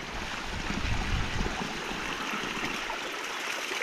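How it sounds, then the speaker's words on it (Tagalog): Natural spring water flows steadily near a storage tank, a constant broadband rush like a small stream or trickle, moderately close and continuous, with no voices. "May bukal daw dito."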